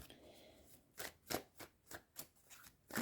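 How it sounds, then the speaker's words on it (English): Tarot cards are shuffled in a quiet room, seven or eight crisp riffling bursts at a steady rhythm, close up. "let's just give them a few more shuffles here"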